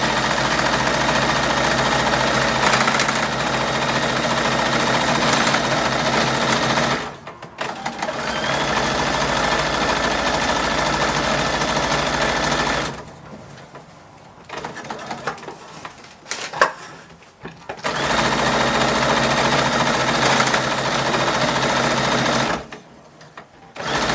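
A sewing machine stitches sleeves onto an 1882-style cotton bodice, running in long loud, even bursts of rapid needle clatter broken by short pauses.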